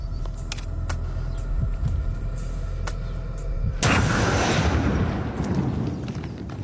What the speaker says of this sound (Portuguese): Parece que a explosão enviou um tipo de choque através da rocha